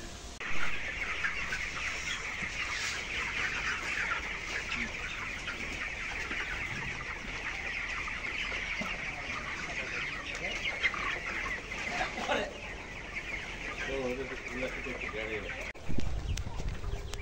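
Broiler chickens crowded in a poultry farm shed, a dense continuous chorus of clucking and chirping throughout, with brief bits of nearby talk and a bump or two near the end.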